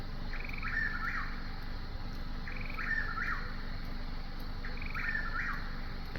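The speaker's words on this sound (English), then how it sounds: "Have you ever heard this bird before?" A bird's call repeats three times at a steady interval, a raspy, trilling phrase over a constant outdoor hum, with no voices.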